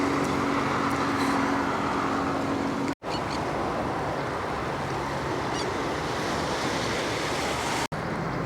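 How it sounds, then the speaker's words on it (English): Atlantic Ocean surf off Montevideo's historic district in Uruguay, a steady broad wash of waves with some wind buffeting the microphone, continuous and fairly loud, with two brief dropouts. "behind me, you can see the Atlantic Ocean."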